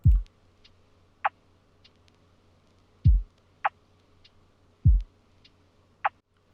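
A sparse lofi drum pattern built in FL Studio: a deep kick lands about every two seconds with a short layered snare hit between each pair. It plays alone over a faint low hum.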